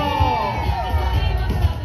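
A crowd cheers and whoops at a Pasig City civic parade for Araw ng Pasig. The sound is a steady, continuous roar of many voices, with shouts rising above it from start to finish.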